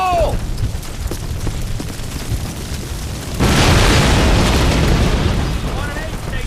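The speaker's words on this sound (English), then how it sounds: "Explosives, go! Stand back! Fire in the hole!" Explosives detonate in a Call of Duty war game: a loud boom bursts in midway and its rumbling blast lingers over ongoing battle noise, with soldiers shouting faintly in the background.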